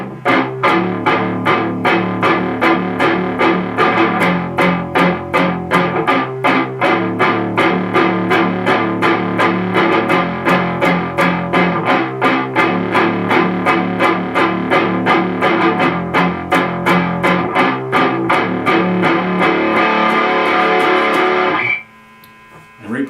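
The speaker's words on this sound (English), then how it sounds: "Palm mute that, and then you're going to palm mute the open low strings." A distorted electric guitar plays a palm-muted riff, a rapid, chugging stream of tight picked notes that runs steadily for about twenty seconds before cutting to near silence and a final hit.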